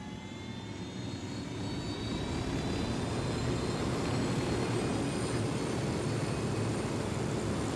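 Steady, loud aircraft engine drone in flight from the video game Ghost Recon Wildlands, a continuous broadband roar with faint high whine, holding level throughout with no talking.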